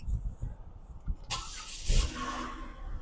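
A car at a dealership starts up: after low idle rumble, a sudden loud crank and catch around mid-clip, then a steady running engine with brief rising revs.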